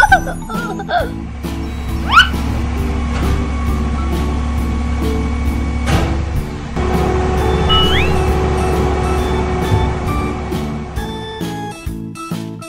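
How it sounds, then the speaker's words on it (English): Concrete mixer truck from a children's 3D machine animation, a steady low engine drone running throughout, with reversing beeps, a brief rising whine near two seconds and chirping tones around eight seconds over the rumble. "Concrete mixer truck."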